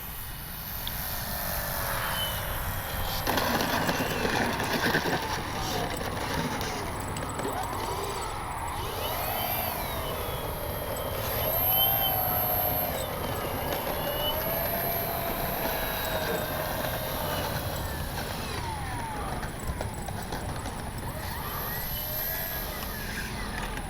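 An Avios Grand Tundra 2 RC airplane taking off and landing on practice runs, its electric propeller whine rising and falling at moderate distance over steady outdoor background noise.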